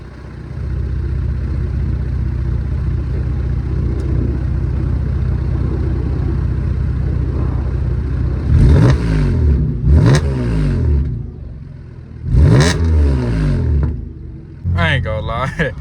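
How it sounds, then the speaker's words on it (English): A Pontiac G8 engine idles steadily, then revs up sharply several times in short bursts, each rising and falling back, loud and close. "But I'm gonna get y'all a couple revs."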